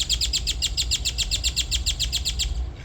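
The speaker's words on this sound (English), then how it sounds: "Birds are chatty this morning." A bird chirps in a fast, evenly repeated pattern, loud and close, over a low background hum.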